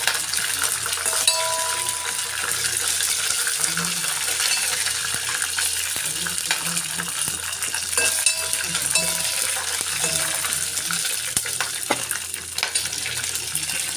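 Mustard seeds, cumin, pepper and urad dal crackle and sizzle in hot oil for tempering curd rice, a steady dense fizz with scattered sharp pops and light clinks throughout, close and continuous with no talking.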